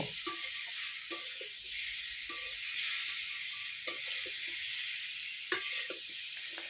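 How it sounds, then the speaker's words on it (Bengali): Boiled arum (maan kochu) being stirred with potatoes in a pan, a steady sizzle under soft scraping strokes of the spoon that recur every second or so, close and moderately quiet. "সেই মানগুলো দিয়ে আলুর সঙ্গে খুব সুন্দর করে নেড়েচেড়ে নেব"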